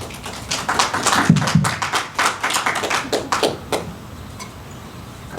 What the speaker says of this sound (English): You could clap or war whoop or holler.